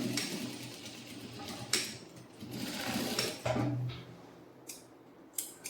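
A sewing machine runs a straight line of stitching along a stand collar on a kurti, a steady close mechanical whir with brief pauses and small clicks, no voices.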